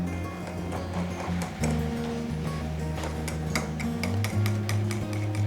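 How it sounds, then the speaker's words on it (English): Pumpkin flan cake batter mixed in a bowl, heard as clattering, ticking utensil strikes that speed up toward the end over a faint hum. "now we're gonna mix all of this together"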